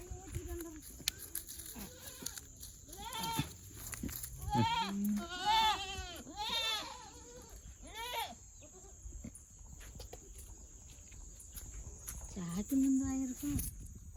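A young goat kid bleats repeatedly in short wavering cries, close by in a farming village, with a high steady insect-like drone and occasional voices in the background.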